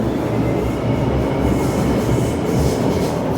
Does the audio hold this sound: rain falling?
no